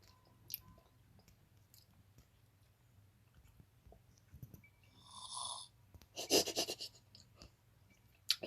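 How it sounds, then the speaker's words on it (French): Grandpa snoring in the horror video game Granny Chapter Two, a faint, low, droning game sound with a few louder bursts of noise near the end. "On l'a entendu ronfler."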